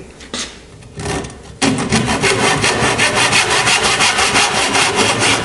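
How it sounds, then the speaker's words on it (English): A tenon saw cuts through marked-out pine in steady back-and-forth strokes, close and loud, with a few hesitant strokes at the start before a continuous rhythm settles in. "we're going to cut it, and we're going to cut it with a tenon saw"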